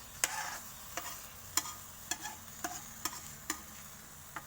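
Pumpkin frying in a pan for stir-fried pumpkin with egg, with a steady soft sizzle punctuated by about eight sharp spatula clicks and scrapes at a fairly even rhythm, close and moderately quiet.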